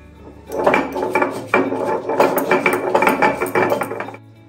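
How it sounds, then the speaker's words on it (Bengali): Green chilli being ground by hand on a flat sil stone grinder: repeated rough scraping and knocking strokes of the stone roller, fairly loud and close, in a steady back-and-forth rhythm with no talking. "লঙ্কাটা আমি একটু বেটে নিই"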